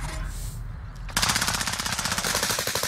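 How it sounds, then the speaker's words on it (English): Rapid automatic gunfire in a video game bursts in after a quieter second and keeps rattling in a steady fast stream of loud, evenly spaced shots, with no talking over it. "They're literally shooting me."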